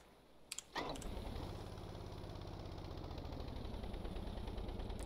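A coaxial helicopter engine in the Stormworks video game starts after a couple of sharp clicks, catching almost at once and settling into a steady, even idle hum that continues alone to the end.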